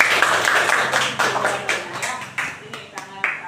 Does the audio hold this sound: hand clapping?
yes